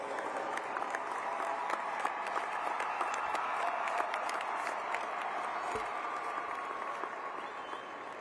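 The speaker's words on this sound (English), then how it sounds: "Please give your supporters a round of applause." A graduation audience of supporters gives a sustained round of applause at a high school commencement, steady dense clapping filling the room for about eight seconds with a faint murmur of voices underneath.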